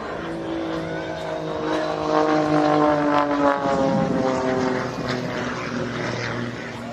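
Propeller-driven aerobatic display aircraft with normally aspirated piston engines trailing smoke at the International Ayr Show in Scotland, a loud sustained droning roar whose pitch sweeps and shifts as the planes roll through a stunt manoeuvre, swelling mid-pass.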